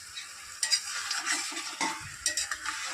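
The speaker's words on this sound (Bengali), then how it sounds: "একটু ভালো করে নেড়ে নিতে হবে" Mango pickle cooked with jaggery being stirred in a pan, a close scraping and shuffling with soft sizzling and a few sharper utensil knocks, no voices.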